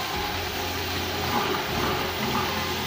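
Water poured into browned onions in a cooking pan for Arabian chicken mandi, a steady rushing, bubbling pour that continues at even loudness close by.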